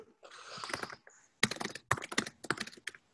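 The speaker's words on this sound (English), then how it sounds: "I hear you typing." Someone types on a computer keyboard during a live online real estate call, a quick burst of keystrokes, a short pause, then several more clustered bursts of clicking, close and clear with no talk over it.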